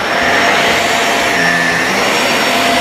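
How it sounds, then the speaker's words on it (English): A household vacuum cleaner runs steadily at close range, a loud continuous whooshing roar with a faint whine and no pauses. "I can't believe I had to vacuum the whole house."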